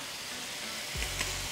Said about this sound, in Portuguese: Aqui, ó, gengibre. Vai pra panela.